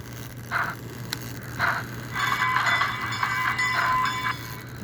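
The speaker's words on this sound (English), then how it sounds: "It's a big steam whistle." A small, tinny model train steam whistle on an American Flyer S gauge locomotive sounds in several short toots and then a longer held blast, steady and moderately loud over a low constant hum.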